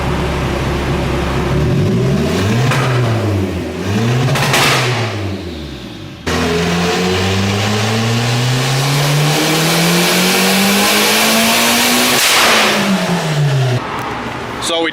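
A turbocharged Honda Civic with an eBay turbo kit revs hard on a dyno, engine pitch climbing and falling in repeated pulls, then a long sustained wide-open run rising steadily before dropping off, loud and close.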